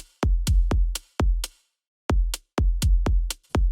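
A short, snappy hi-hat sample shaped in an Ableton sampler for melodic house repeats in quick, uneven hits with a brief pause in the middle. Each hit is tight and quickly damped, and the pattern is loud and dry.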